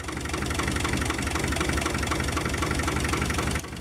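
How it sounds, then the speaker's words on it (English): An old tractor engine idles steadily, a continuous low, rumbling drone with a faint knocking pulse, close and even until it drops off slightly at the very end. "Running steady. drop back down the idle."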